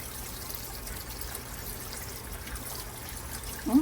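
Water trickling and dripping steadily from freshly washed blueberries left in a strainer to drain, a soft continuous close patter with a small clink at the end, no voices.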